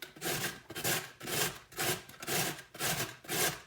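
A very hard carrot is rubbed against a grater in about seven rhythmic, rasping strokes, each a close, scratchy burst with brief pauses in between.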